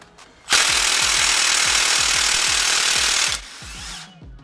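A power tool, likely an impact wrench, hammers loose the Allen bolts holding a brake caliper bracket on a GM truck: one loud, sustained burst of rapid rattling blows lasting close to three seconds, then a brief tail of clatter.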